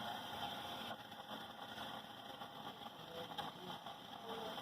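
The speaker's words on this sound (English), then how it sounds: "we just hit this button, and it winds our bobbin" A Viking Designer Brilliance 80 sewing machine winds a bobbin with a steady, faint motor whir and a thin high whine, running continuously without pause.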